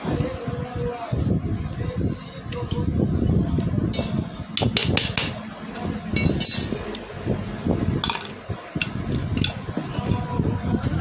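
Metal tool clinks and ratchety taps while 10 mm bolts come off the tappet cover of a seized Honda Activa scooter engine, someone talking throughout over the work noise.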